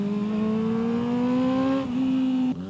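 A high-revving 250cc engine screams at a steady, rising pitch near 20,000 RPM, then briefly dips and holds high again before cutting back. It is loud and close, alone without talk.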